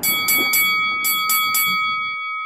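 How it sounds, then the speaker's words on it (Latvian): A bell rings in a quick series of bright strikes, about six in a row, with a sustained metallic ring that lingers and fades after the last hit. "Un tagad skan otrais zvans."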